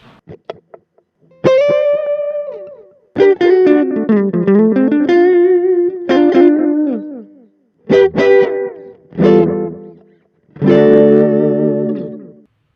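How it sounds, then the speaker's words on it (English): Electric guitar phrases played through a Vox AC2 RhythmVox mini amp with a delay effect, each note echoing and trailing off, loud and close, with short pauses between phrases. "next up, we have a delay effect"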